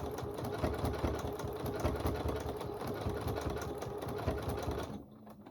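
A computerized sewing machine stitches a poinsettia table runner with a loud, continuous whirring motor and rapid needle chatter, then stops abruptly near the end.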